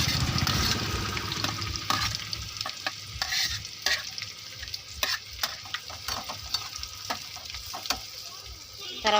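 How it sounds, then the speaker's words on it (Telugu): Sliced onion pieces hit hot oil for a curry with eggs, setting off a loud, close sizzle and repeated stirring scrapes and knocks against the pan, with no voices. "మనం కోసుకున్న ఉల్లిపాయ ముక్కలు నూనెలో వేస్తుంది మా అమ్మ."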